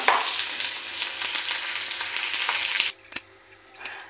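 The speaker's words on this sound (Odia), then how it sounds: "ଚଟଚଟ ହେଉଛି ଦେଖନ୍ତୁ ତାପରେ କ'ଣ କରିବେ ନା ପିଆଜ ପକାଇଦେବା ଭାଜିବା" Onions frying in hot oil in a home kitchen pan crackle and sizzle loudly and steadily for close to three seconds, then the sizzle cuts off abruptly, leaving a sharp tap and quieter rustling.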